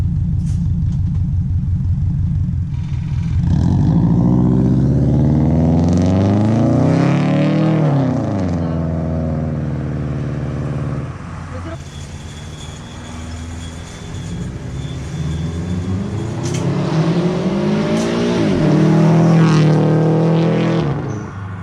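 A Subaru WRX fitted with an Agency Power header and HKS exhaust revs loudly nearby, the engine climbing and falling through several long rising and dropping revs with a deep rumbling exhaust tone.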